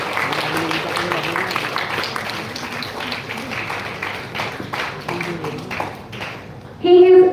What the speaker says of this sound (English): The round of applause should be louder while we are welcoming our